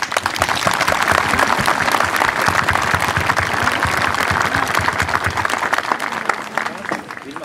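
Crowd applause at a civic parade, dense and loud, with steady clapping up close that carries on for several seconds. Voices mix in underneath, and the clapping thins out near the end.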